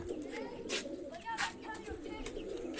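Pigeons kept by a fancier give soft, low coos, a few quiet repeated calls over a faint background.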